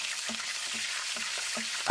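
Milkfish (bangus) fries in oil in a pan with a steady close sizzle, punctuated by a few soft popping spatters.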